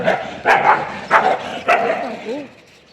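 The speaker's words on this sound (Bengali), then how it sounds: "কুকুরে খেউ খেউ করছে" A dog barks three times in quick succession, sharp and fairly close, then gives a few short whimpering yelps as the sound fades out.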